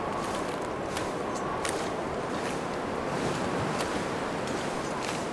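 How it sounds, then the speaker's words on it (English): Wind blows steadily in the survival video game The Long Dark, a constant broad howling rush at even volume with occasional faint gusty clicks, no voices over it. "I really need to get out of the wind here"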